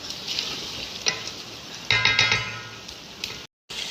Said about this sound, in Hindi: और अब मैं करूँगी इसकी थोड़ी सी भुनाई।